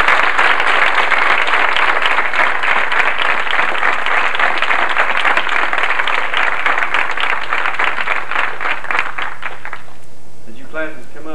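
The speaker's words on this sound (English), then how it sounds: "I wish y'all would give these seniors a big round of applause there" A school assembly audience gives seniors a long, dense round of applause that runs steadily for about ten seconds, then thins out toward the end while a few voices and scattered claps remain.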